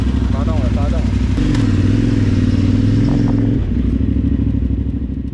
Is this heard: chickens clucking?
no